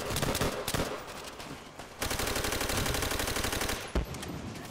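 Sustained rapid gunfire in a World at War co-op campaign, with a steady machine-gun rattle running close and loud through most of the stretch and a heavier burst near the end.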